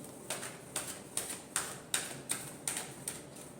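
Tarot cards being shuffled give a quiet, regular series of about nine soft riffling taps, close and alone.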